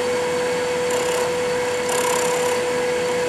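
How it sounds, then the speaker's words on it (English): A wood lathe spins at about 2,000 RPM with a steady, loud whirring hum and a fixed tone, while a tool takes light slicing cuts into the turning wood, adding brief rasping swells. "I'm going to take some real easy slicing cuts."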